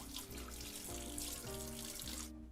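Hot tap water streams steadily into a kitchen sink, splashing over dirty dishes and a pan, a continuous close running gush with shifting tonal ripples before cutting off near the end.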